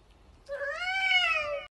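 A cat lets out a single clear, drawn-out meow lasting about a second, close and fairly loud, with a faint background hiss and no talk.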